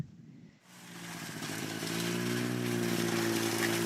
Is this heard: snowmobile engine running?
yes